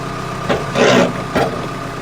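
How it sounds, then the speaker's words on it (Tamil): A tractor-driven rotavator runs with a steady engine drone while being shifted from high to low gear, with brief surges in the noise, close and fairly loud. "இதில் வந்து ஹை ஸ்பீடில் ஓடும்போது ரொட்டவேட்டரோட வேகத்தை எப்படி இருக்குன்றதை பார்க்குறீங்க"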